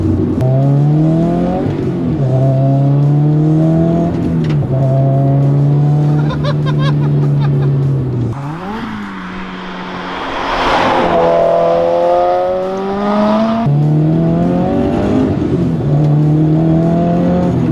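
A 400 HP turbocharged Subaru BRZ roars through repeated hard accelerations, its engine note climbing through the gears with brief drops at shifts and a whooshing burst midway, loud and close from inside the car.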